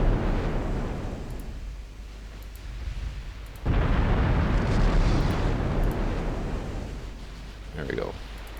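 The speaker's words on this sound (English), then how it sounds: "Let's get some shells out on that battlecruiser as well." Naval gun shells fired in the warship game Ultimate Admiral Dreadnoughts, heard as deep rumbling blasts. A heavy boom comes early, then a louder, sustained explosion from about a third of the way in, with a voice talking over it.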